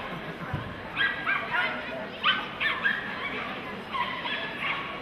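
At an FCI agility world championship small jumping run, a Parson Russell terrier gives several sharp, high yips and barks in short bursts. The barks are moderately distant, over arena noise and a commentator's voice.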